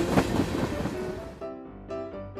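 A train on a rail track through a settlement, rumbling with clickety-clack, then sustained squealing tones as it slows to a stop, close and steady.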